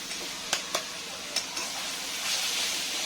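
Chopped mustard greens bhaji sautés in a pan with a soft, steady sizzle and hiss, broken by a few sharp scraping stirs early on.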